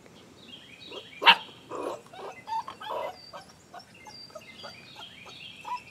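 Great Pyrenees puppies, 37 days old, giving scattered short barks, yips and whimpers at close range, one sharp loud yelp early, no clear talking.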